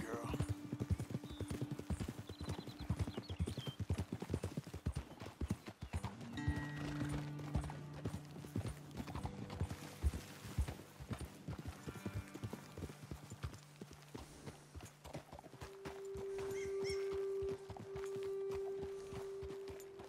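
Horse hooves clip-clop steadily on the ground in Red Dead Redemption 2, a close, continuous walking rhythm with a brief whinny, while characters talk over it.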